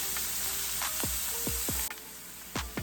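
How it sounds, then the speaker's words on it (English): Onions sautéing in a pan give a steady, soft hiss of frying, close and fairly quiet, with a few brief pops and ticks over the continuous sizzle. "So this has been sauteing for about 2 minutes"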